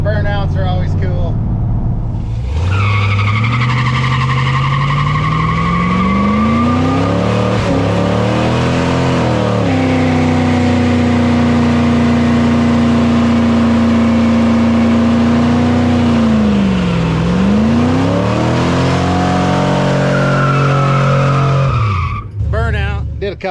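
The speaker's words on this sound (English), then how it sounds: "Burnout, did a couple little burnouts" A truck doing burnouts, its engine revving hard and holding high with rising and falling pitch as the tires skid and squeal, loud and continuous for about twenty seconds with no talk.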